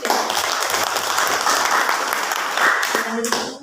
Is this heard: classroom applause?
yes